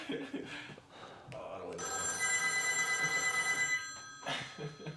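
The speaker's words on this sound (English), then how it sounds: "There's the payphone." An old payphone, some twenty-odd years in service, rings with a steady electronic trill for about two seconds. Indistinct voices are heard before and after the ringing.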